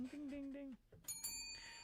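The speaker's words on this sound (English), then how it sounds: "Where's the bell when I need it?" A bell rings out with sustained high tonal partials in a live sports-talk radio studio, following a brief pause after speech at the start.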